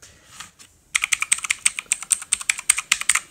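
Rapid, crisp clicking keystrokes on an E-Element Z-88 RGB mechanical gaming keyboard, a close, steady burst of typing after a brief quiet start.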